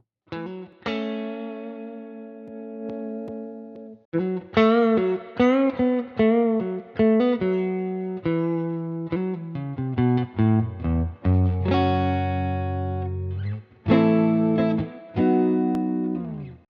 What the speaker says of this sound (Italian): più che altro aumenta la distorsione del finale dell'amplificatore, quindi alziamo l'out